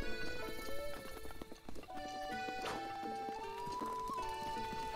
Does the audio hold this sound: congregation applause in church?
no